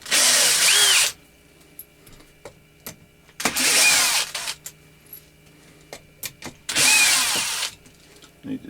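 A power drill drives a screw in three loud bursts of whirring, each about a second long, separated by quiet pauses filled with light clicks and handling noises.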